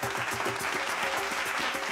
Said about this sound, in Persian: تشویق کنید.